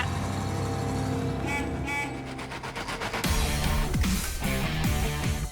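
A 1949 Humber Pullman limousine drives off with a close, rumbling engine note that surges and pulses, getting louder halfway through. No voices are heard.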